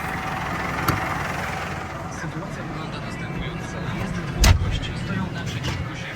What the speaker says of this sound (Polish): Wsiadamy do ciągnika i lecimy.